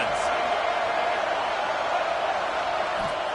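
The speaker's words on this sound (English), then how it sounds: "Listen to this crowd just shaking the girders of this place," A large crowd roars continuously at an American football game in a stadium, a dense, sustained wall of cheering and noise with a commentator's voice faintly over it.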